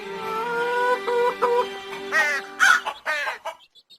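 A cartoon crow caws several times in quick, harsh bursts near the end, following a run of bright musical tones in a Tamil children's cartoon.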